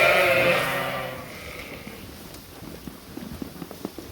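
Sheep bleat in a noisy barn at feeding time on a farm holding about 300 ewes. A loud, close bleat opens the clip, then fades into scattered faint bleats and light shuffling and clatter.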